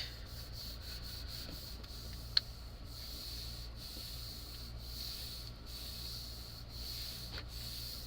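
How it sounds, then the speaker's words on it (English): Paper rubbed by hand across a gelli printing plate gives a faint, steady brushing texture that runs throughout, with a steady high hiss beneath and a single sharp tick partway through. "Okay, we rub it, and then we peel."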